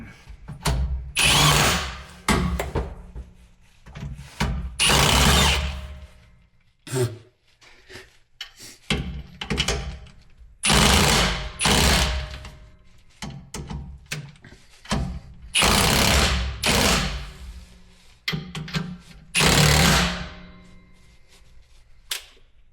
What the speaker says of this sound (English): then you just tighten the nuts back up and repeat for the other side